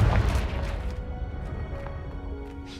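A Confringo spell explosion in the Hogwarts Legacy video game: one loud, close boom with a sharp crash at the start, then a rumbling decay that fades over a couple of seconds.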